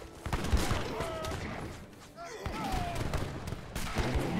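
Organ guns firing volleys in Age of Empires III, with rapid bursts of gunfire and thumps in an ongoing battle, under game clatter and a brief pause midway.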